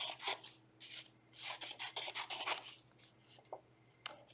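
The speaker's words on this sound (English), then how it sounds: "So I'll just cut some little skinny strips of blue." Scissors snipping thin strips of blue paper for a kindergarten craft figure, a run of crisp rasping cuts in quick bursts, close and fairly quiet, with a hum underneath.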